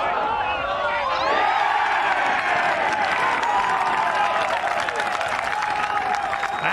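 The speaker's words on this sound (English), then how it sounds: "And the cheer. And it is a first birdie for Tommy Fleetwood." A large golf gallery at the 151st Open Championship erupts in sustained applause and cheering after Tommy Fleetwood's birdie putt, loud and continuous with scattered whoops throughout.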